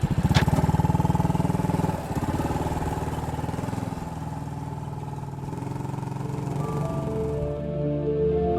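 A small postie motorcycle engine runs steadily and close by, with a constant rumbling drone throughout and a slight dip around the two-second mark.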